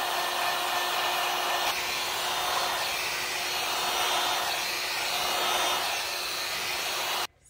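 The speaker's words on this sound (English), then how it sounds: "we're going to start heating that up a little bit so it moves more." Heat tool set just below max blowing steadily on an epoxy-coated ocean and mermaid themed tumbler, a constant close airy whoosh that cuts off abruptly at the very end.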